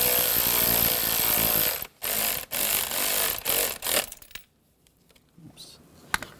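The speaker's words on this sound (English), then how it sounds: "Take these two self-tapping screws, get those started. Using a 10mm socket, we'll tighten those down." A power tool with a 10mm socket drives self-tapping screws on a 2011-2015 Chevy Cruze intake manifold, several loud whirring bursts separated by brief pauses, then quieter handling clatter.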